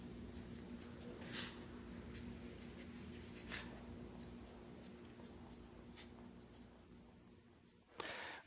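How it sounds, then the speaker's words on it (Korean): A pencil scratches steadily across paper, faint and close, in continuous strokes with a few sharper bursts and a louder scrape near the end. "연필이 종이 위를 달려가는 소리가 있는데요, 굉장히 감미롭습니다."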